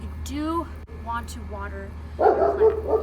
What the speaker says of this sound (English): I apologize for the barking.